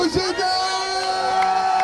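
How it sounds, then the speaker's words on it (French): A crowd at a street demonstration in Paris cheers and whoops in a loud burst of overlapping shouts and yells, close and sustained, with voices mixed in. "Beaucoup d'applaudissements pour ces gars."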